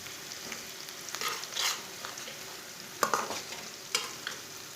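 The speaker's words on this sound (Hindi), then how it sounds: "इसे चम्मच चलाते हुए ब्राउन कर लेना प्याज को।" Chopped onion with cumin and coriander seeds fries in oil, a soft continuous sizzle punctuated by several sharper scraping stirs of a spoon, close up and without voices.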